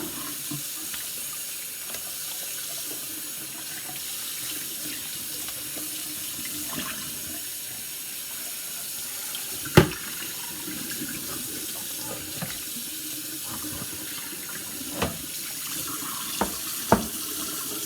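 A kitchen tap runs steadily while meat for homemade bacon is rinsed on a tray, a continuous hiss of water with occasional sharp clinks and splashes.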